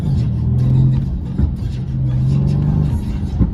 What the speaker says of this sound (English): the way this engine just screams and the way it like sounds, has like that deep growl to it